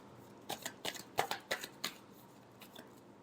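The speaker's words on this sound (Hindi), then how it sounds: "Last shuffle." Tarot cards being shuffled by hand, a series of quick close riffling bursts and soft slaps in an uneven rhythm, fairly quiet, with no one speaking.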